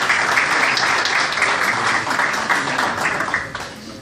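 Loud, sustained applause from an audience at a local newspaper's seventh anniversary ceremony, a dense wash of clapping that fades a little near the end.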